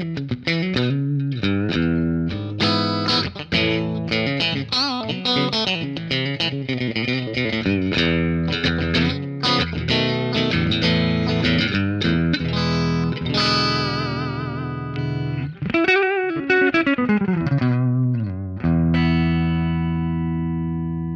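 Electric guitar played through a Fractal FM3 amp modeler on a drier room-style reverb preset, distorted chords and single notes in a continuous loud phrase with short, tight tails and no voices.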